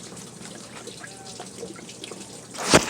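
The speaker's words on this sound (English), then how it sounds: "the water flow is being stopped by the water pump itself and it's just pouring down." Coolant drips and trickles from a lifted Toyota Prius during a water pump replacement, a soft continuous patter of drops close by, with a louder splash near the end.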